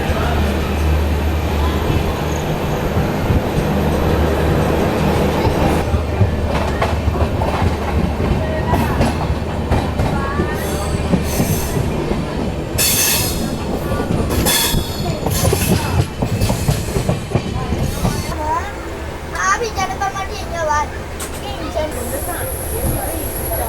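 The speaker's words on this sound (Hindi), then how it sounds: "हमारी ट्रेन जो है वो एक और स्टेशन पर रुकने वाली है" Indian passenger train running on rails between Ahmedabad and Udaipur in heavy rain, a loud steady rumble with clickety-clack and squealing wheels throughout, close and continuous.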